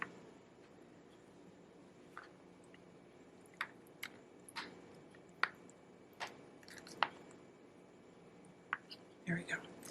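A knife chops through a block of drained tofu on a board in a home kitchen, giving soft, irregular taps and squishy cuts spaced about a second apart, quiet and close.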